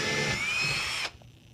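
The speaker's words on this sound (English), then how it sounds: "I put the 3/16 drill bit onto the drill, and I'm just going to drill through the drywall here" A power drill fitted with a 3/16 bit whines steadily, close up, as it bores through drywall, then stops abruptly with only faint room noise after.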